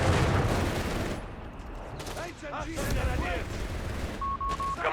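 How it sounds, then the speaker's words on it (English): Rifle fire from three squads shooting at retreating riflemen in the video game Company of Heroes 3, a steady crackling fusillade of mid-distance shots running beneath spoken commentary. "With 3 squads firing down the retreating riflemen"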